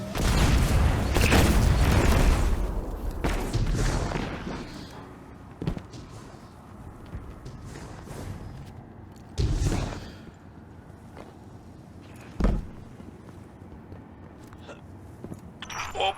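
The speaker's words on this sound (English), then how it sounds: "Orbital bombardment incoming." In the video game Destiny 2, a heavy rumbling orbital bombardment explosion opens the clip, followed by several sharp, isolated booms spaced seconds apart over a quieter background.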